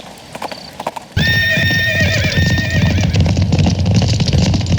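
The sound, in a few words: horse hooves clip-clop and neighing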